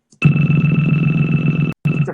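A synthesizer pulse effect with a steady buzzing, ringing tone that resembles a phone dialing, running continuously for almost two seconds at fairly loud level with a brief cutoff near the end before resuming.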